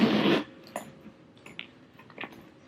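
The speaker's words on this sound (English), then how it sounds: "there is a double zipper." A double zipper inside a Louis Vuitton Express MM bag with a textile interior rasps in a short burst, followed by faint clicks and small handling rustles, close and quiet.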